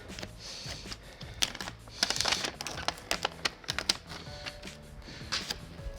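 Adhesive backing is peeled off a pad for a Delta EverEdge shower wall panel, heard close and fairly faint as a run of small crackling, sticky tearing ticks and taps in irregular bursts.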